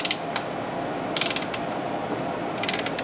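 A ratchet tightening valve cover bolts on a 2015 Honda Accord, giving short bursts of rapid clicking three or four times with pauses between, close and clear against a steady background hiss.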